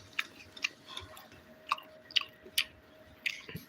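Close, crunchy chewing of omelette and rice in a home-cooked Kerala-style dinner, with a handful of soft bites and mouth clicks spaced irregularly over a low background hum.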